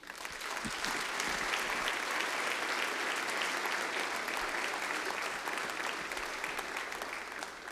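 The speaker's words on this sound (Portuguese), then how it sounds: "Aplauda Jesus" A church congregation claps for Jesus during a Portuguese-language sermon, a dense, sustained round of applause that swells quickly and holds steady, filling the hall for several seconds.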